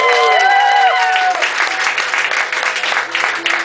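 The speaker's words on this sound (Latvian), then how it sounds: "Tā es gribētu lūgt arī otru Aivu, kuras aicinu arī sagaidīt ar tikpat lieliem vai lielākiem aplausiem" A crowd applauds at the Green Ideas plein-air event (Zaļo Ideju Plenērs): loud, sustained clapping from many people, with a brief voice or tone rising over it at the start before the clapping carries on alone.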